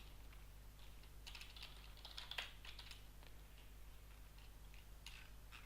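Scattered keystrokes from typing on a computer keyboard running Ubuntu come in a brief cluster of faint clicks near the middle, with quiet room tone before and after.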